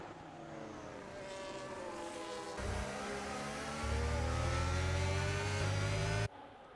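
Formula 1 race car engines in the F1 25 game at the Bahrain Grand Prix: a steady high whine rising in pitch as a car accelerates, then a deeper engine roar joins before it cuts off abruptly.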